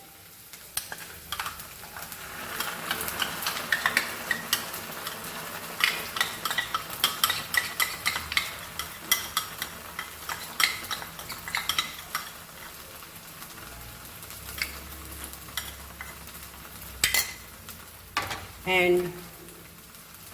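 Ground masala sizzles and fries in a pan with fried onions for a Goan pork sorpotel, with steady scraping stirs and soft clinks of a spoon. The sound is close and moderately quiet.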